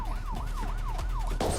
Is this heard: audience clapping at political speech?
no